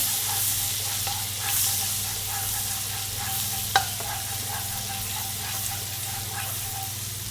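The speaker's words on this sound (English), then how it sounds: "So it's sauteed. Give it a stir." Salt and pepper chicken wings sauté in a pan, giving a steady, loud sizzle with periodic scraping stir strokes and one sharp utensil clack partway through.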